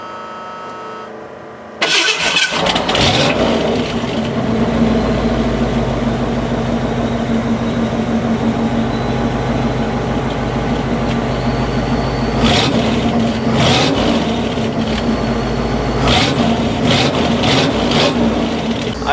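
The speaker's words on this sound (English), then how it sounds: "I can't even pretend I don't love the sound of a Ford pushrod V8." A Ford pushrod V8 in a tow rig starts with a sudden catch, then settles into a loud, steady rumbling idle with a few sharp revs blipping near the end.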